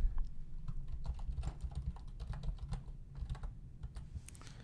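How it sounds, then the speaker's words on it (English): Rapid, irregular typing on a computer keyboard, close and fairly quiet, with clustered key clicks over a low background hum and no voices. "I'll start typing in what we had already typed in"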